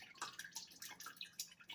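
Acidic liquid from a 10-pound batch of cell phone keyboards being poured slowly into filters, giving a soft, steady trickle with repeated light splashing drips, close and fairly quiet with no talking.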